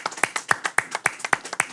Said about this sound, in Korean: 박수 한번 쳐줘야 돼